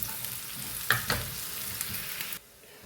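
Okra bajji frying with plenty of onions in a pan, a steady close sizzle with a couple of brief stirring clinks, cutting off abruptly near the end.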